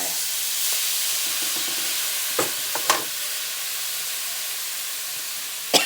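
Steady loud sizzling of chili paste and garlic stir-frying in a hot pan, with a few sharp scraping clicks of a utensil stirring.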